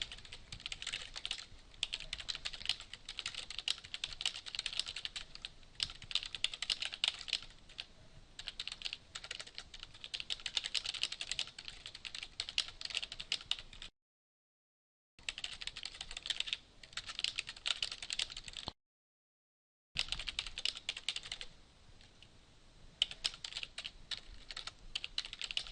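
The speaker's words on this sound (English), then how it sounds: "and then we can begin typing our paragraph." Paragraph being typed on a computer keyboard, quiet close clatter of keys in fast continuous runs, broken by two short pauses of silence.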